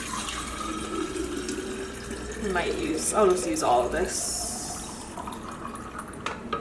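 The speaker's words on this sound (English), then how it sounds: "So anyways, I just put our reverse osmosis water." Reverse osmosis water pouring into a container, a running, splashing stream that swells midway and then tapers, with someone talking over it.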